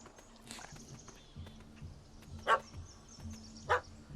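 Dog barks from The Witcher 3 video game, two sharp, separate yelps from a puppy standing near a treed cat, set over a low game ambience with soft footsteps.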